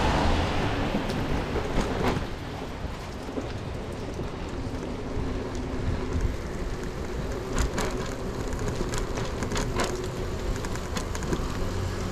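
Steady rain falling at night outdoors, a dense continuous hiss with scattered sharper drops throughout, at an even moderate level with no pauses.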